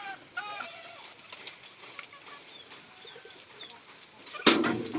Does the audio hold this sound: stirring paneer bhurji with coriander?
no